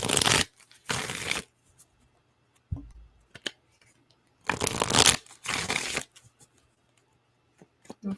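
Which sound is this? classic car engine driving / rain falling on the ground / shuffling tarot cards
shuffling tarot cards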